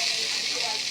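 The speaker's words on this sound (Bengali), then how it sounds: "এবার এটাকে আমি একটু নাড়াচাড়া করব। নাড়াচাড়া করে এই মশলাটা আমার" Spice mixture with turmeric frying in a pan while being stirred, a steady close sizzle filling the short moment with no pauses.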